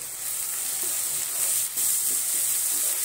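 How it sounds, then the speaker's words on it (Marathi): Chopped medium tomato sautéing with onion in a hot pan for paneer bhurji gives a loud, steady, close sizzle that holds without a break, with a slight surge partway through. "त्यामध्येच आपण एक मध्यम आकाराचा टोमॅटो कापून घेतलेला आहे, तोही आपण त्यामध्ये परतून घेऊ"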